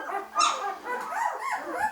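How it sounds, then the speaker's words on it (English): Small puppies yip and bark close by in a few quick, high-pitched bursts, mixed with faint whimpers. "So that is the puppies"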